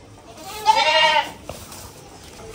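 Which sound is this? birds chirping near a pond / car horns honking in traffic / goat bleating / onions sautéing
goat bleating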